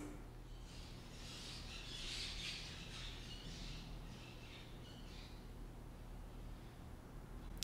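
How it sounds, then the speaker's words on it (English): Small island parrots squawk and chirp outside in a residential area, a steady noisy chorus of high calls running throughout at moderate distance with no talking. "There's like little parrots here where I live. They're like from the island and they can get really loud"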